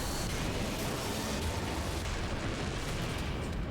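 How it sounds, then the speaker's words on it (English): A big explosion in the video game The Bouncer, set off by jet fuel and bringing down the surrounding building, a dense, roaring blast that rumbles continuously and loudly across several seconds. "It's like the same explosion in both cases, except that the whole place collapses when the jet fuel's there."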